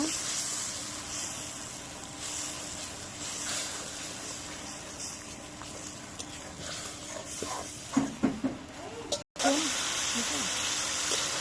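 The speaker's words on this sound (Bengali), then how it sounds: "দেখুন মশলাটা কত সুন্দর কষাই নিচ্ছি তেল ছেড়ে দিছে" Spice paste (masala) fries in oil with a steady, close hiss throughout, broken near the end by a few sharper stirring clatters and a brief gap before the hiss resumes.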